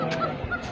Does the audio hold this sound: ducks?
yes